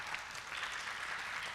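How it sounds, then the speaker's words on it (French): A group claps loudly together for itself in a steady, dense burst of applause at a youth holiday event, sustained without pause and with no voices over it. "On s'applaudit très fort."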